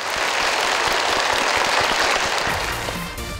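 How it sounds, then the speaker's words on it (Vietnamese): A studio audience on a Vietnamese picture-puzzle game show breaks into steady, dense applause, a loud continuous wash of clapping that holds for a few seconds and eases slightly at the end. "chúng ta sẽ dành một tràng vỗ tay"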